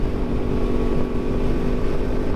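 A 2023 Yamaha MT-10 motorcycle in Louisiana rumbles with a steady, loud engine drone close by, sounding like it is idling at a red light, with no one talking.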